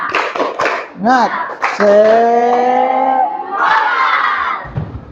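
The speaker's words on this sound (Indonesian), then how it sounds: "Ulang, tepuk semangat" A group of students shouts a rhythmic 'tepuk semangat' chant with claps in a classroom session, loud and close: a few sharp claps, then a sustained sung call, then a rising crowd response.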